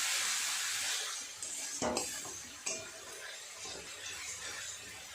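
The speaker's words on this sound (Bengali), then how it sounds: "একটু কষিয়ে নেব মশলাটা ভালো করে।" A spatula stirs and scrapes a masala paste of coriander powder, Kashmiri chili powder and salt frying in a pan for pangas fish kalia, with a soft sizzle and a few close metallic clinks.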